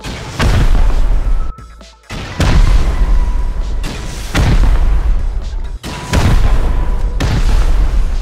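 Rockets explode in repeated heavy booms during a base raid in the game Rust, roughly five loud close blasts spaced about every one and a half seconds, each with a sharp attack and a rumbling tail, and no talk over them.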